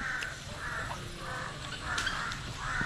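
A crow caws repeatedly in a hilly rural farm setting, five or six harsh calls spaced at an even rhythm, moderately near over quiet background noise.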